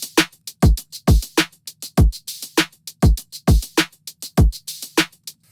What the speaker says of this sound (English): So then you have drums that kind of sound like this.